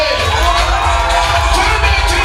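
A dense crowd of Simba football supporters shouts and cheers at once, a loud, sustained wall of voices from close by.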